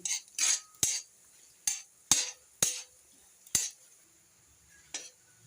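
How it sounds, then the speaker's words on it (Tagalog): A spoon stirring pork adobo ingredients in a pan while they brown, with about nine sharp scraping clinks spaced irregularly, close and fairly quiet. "Tsaka haluin lang until golden brown."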